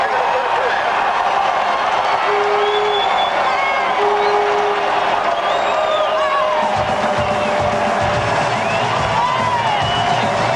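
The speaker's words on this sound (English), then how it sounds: "Listen to this crowd." Crowd noise fills a college football stadium during the 1988 West Virginia versus Penn State game, a dense roar with cheering and clapping that swells later, under a commentator's voice.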